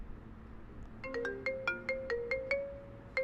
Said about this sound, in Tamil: என்ன ரிங்டோன் நீங்கள் செலக்ட் பண்ணிக்கலாம்.